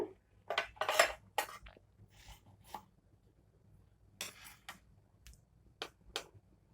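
Egg bajji batter with chili powder, coriander powder, cumin and salt is mixed in a bowl, giving irregular scraping and clinking bursts of a spoon against the bowl, close and fairly quiet with pauses between strokes.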